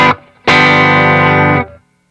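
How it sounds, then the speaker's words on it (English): Clean electric guitar runs through an Adineko pedal into a dry Princeton Reverb amp with its reverb off: a short plucked note, then a loud ringing chord that sustains for over a second before fading out. "So that's our clean sound, straight into a Princeton reverb with no reverb on, just dry amp"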